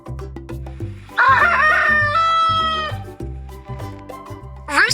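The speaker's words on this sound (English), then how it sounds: "Rooster." A rooster gives one loud, full crow lasting about two seconds over a rhythmic musical backing, with the start of a second crow at the very end.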